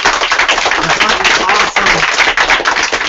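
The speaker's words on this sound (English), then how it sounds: "We should give them a round of applause because this is awesome" A crowd at a Bitcoin fair meetup in New York City claps for the event organizers, a dense, loud burst of applause that holds steady throughout, with voices mixed in.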